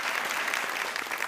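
A TV poetry show audience breaks into loud, dense applause for a poet, a brief steady burst of clapping with no voices over it.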